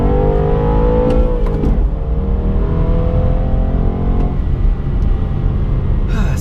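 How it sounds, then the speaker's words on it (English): A 2017 BMW 230i with a manual gearbox and four-cylinder engine blips its revs automatically on a downshift, with a loud, close engine note that rises and then falls away. "There's the auto blipping on the downshift."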